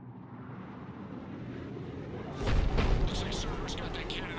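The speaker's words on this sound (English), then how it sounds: "Looks like Cerberus got that cannon operational," In Mass Effect 3, a Cerberus cannon on Tuchanka fires a single deep, booming shot that rolls out over a steady low rumble of background battle ambience.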